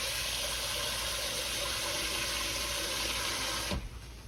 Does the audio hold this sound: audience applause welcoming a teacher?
no